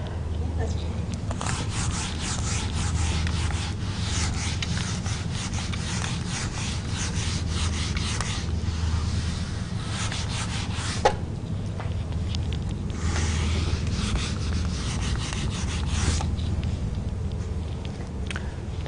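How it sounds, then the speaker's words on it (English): A classroom board being rubbed clean with a board eraser during a maths lesson, giving a continuous dry rasping swish that runs steadily throughout over low room hum, with one brief knock midway. "Can I rub the board off?"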